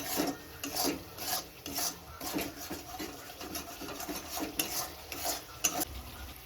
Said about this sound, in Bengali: ভালো করে ফ্রাই করি এবং মশলাটা কষিয়ে নিই